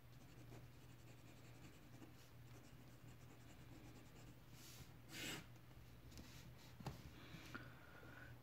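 A Platinum 3776 Century Bourgogne fountain pen with a 14 carat gold medium nib writes on ordinary photocopy paper, giving a faint, steady scratching of strokes over a low background hum.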